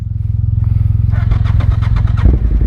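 A Suzuki TL1000R sport motorcycle engine revs up close and loud, rising bursts of throttle over a deep rumbling idle, ending in a heavier roar.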